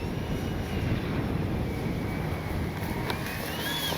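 An FMS 70mm A-10 Thunderbolt II V2 electric ducted-fan RC jet whines steadily on landing approach, a sustained rushing hiss with a faint rising tone, heard alone at moderate distance.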